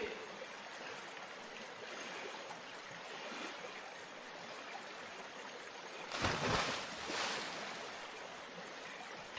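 River water flowing, a steady faint rushing wash that swells briefly louder near the end, with no voices.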